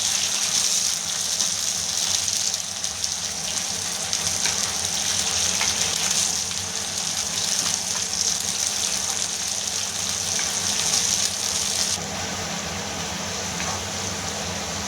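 Gongura leaves frying in oil, a loud, steady hiss and bubbling sizzle close by that continues throughout, easing slightly near the end.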